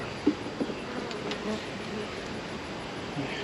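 Honey bees buzz around an opened beehive frame, a faint continuous hum close by with a few brief louder passes, no talking.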